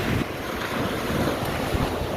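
Sea waves wash ashore at Phayun beach in Ban Chang, Rayong, Thailand, a continuous loud roar of surf mixed with heavy wind buffeting the microphone, with no talk.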